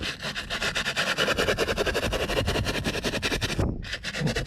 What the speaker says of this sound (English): Get your little brush and get into the seams.